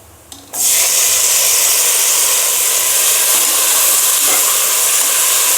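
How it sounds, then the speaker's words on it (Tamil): Four tomatoes drop into a hot pan for biryani and set off a loud, steady, close sizzle that keeps going without a break after a brief clatter at the start. "இப்போ தக்காளி போட்டுக்கலாம். 4 தக்காளி."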